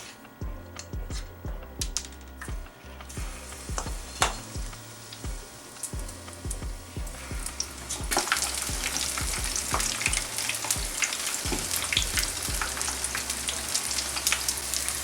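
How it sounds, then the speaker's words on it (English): Onion bhajias deep-frying in hot oil give a steady, dense sizzle and crackle that grows louder and fuller partway through, with no talking. "This will fry for about 3 to 4 minutes."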